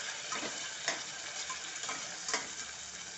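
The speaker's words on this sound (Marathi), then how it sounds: "हे आलं मिरची आणि कोथिंबीरचं वाटण आहे ते दोन तीन चमचे घालायचे" A paste of ginger, chili and coriander added to a frying gravy for stuffed tondli, a continuous close sizzle with a few soft stirring strokes rising out of it at intervals.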